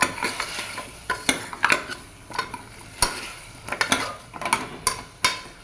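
Pieces of meat sauté in oil over an onion base in a pan, with a soft sizzle under repeated sharp scrapes and clinks of a spoon stirring against the metal.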